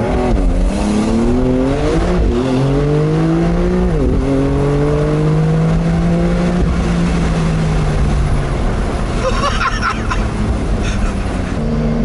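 Porsche 911 of the 992 generation in Sport Plus mode, its engine revving loud and close in several rising and falling sweeps, ending in a long held rev that drops away, with no talk over it.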